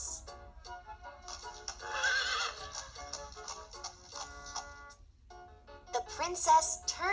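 Eight plumed horses in golden harness pull a sparkling fairy-tale coach. A clear whinny rings out, and hooves clip-clop, some nearer and some farther, beneath a storyteller's narration.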